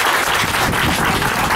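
Dense, loud applause from a political rally audience in Fort Atkinson, steady clapping filling the whole short stretch with no voices above it.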